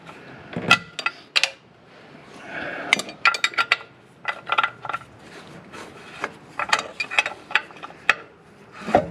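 Sharp, uneven scraping and rubbing against a Ford Mustang's painted surface while the car sits on jack stands, coming in short, irregular strokes close to the listener, with quiet gaps between them.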